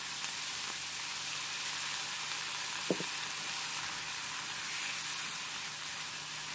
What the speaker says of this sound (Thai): ผัดให้เครื่องปรุงละลายเข้ากันดีแล้วก็เติมพริกชี้ฟ้าแดงครับ